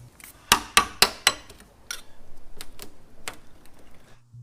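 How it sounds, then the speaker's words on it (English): Hammering out dents in a car body panel, four sharp metallic taps in quick succession, followed by lighter, softer knocks and scattered clinks at close range. "Now I'm just going to continue working out these dents until this is back into shape and level"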